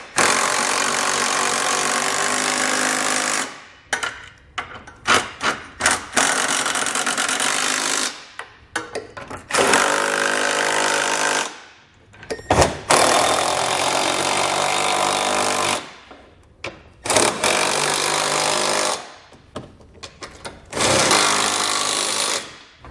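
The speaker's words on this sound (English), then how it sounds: "we can take a 19mm socket and snug it all down" A tool with a 19mm socket snugs down the bolts of a Curt trailer hitch receiver on a 2020 Toyota in loud, close bursts of harsh rattling tool noise, each a few seconds long, separated by short pauses.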